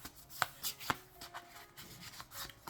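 A deck of animal spirit cards being shuffled by hand, with a series of crisp riffling snaps and soft rubbing slides at an uneven rhythm, close and fairly quiet with no talking.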